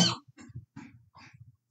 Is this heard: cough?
yes